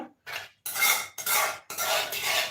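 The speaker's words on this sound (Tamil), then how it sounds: "இந்த மிக்சரை இதுக்குள்ளே ஊற்றிடுவேன்" Tomato thokku mixture is poured and scraped into a pan, giving four bursts of wet, hissing pouring and metallic scraping separated by short pauses, close and fairly loud with no talk.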